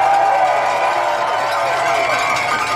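A crowd at an Ontario Health Coalition rally against health care privatisation cheers loudly and continuously, with shouting voices blending into a sustained roar.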